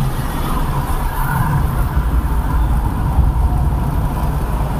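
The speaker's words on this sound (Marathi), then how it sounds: "आता आपली गाडी कात्रज बोगद्यात एंट्री करत आहे" Car entering the new Katraj tunnel near Pune, a steady broad road and engine roar with low rumble and no change in level, no voices.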